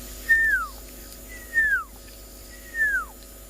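A person whistles three separate descending notes, each a high clear slide downward, evenly spaced and fairly close, imitating the call of the pearl-spotted owlet, a tiny owl, over a quiet background hum.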